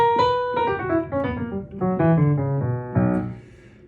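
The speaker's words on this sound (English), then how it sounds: "A B harmonic minor scale sounds like this." A B harmonic minor scale rises as a steady sequence of about a dozen distinct pitched notes, each ringing briefly into the next, played clearly and alone without talk.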